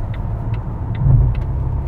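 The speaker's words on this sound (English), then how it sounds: "How loud these signal changers are." In a 2020 Volvo S60 Polestar Engineered cabin, the turn signal ticks in an even, steady rhythm, four crisp clicks, over the low hum of the car driving.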